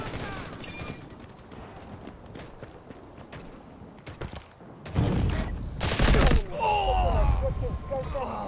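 Gunfire in the Delta Force video game: a steady rattle of distant shots under a voice, then louder bursts and heavy blasts toward the end, with loud game sound effects.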